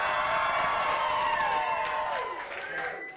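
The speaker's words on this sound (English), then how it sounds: "Is there anybody out there who can cheer for me?" A crowd at a presidential debate-style event cheers and whoops loudly, a sustained roar of voices with scattered clapping that fades slightly toward the end.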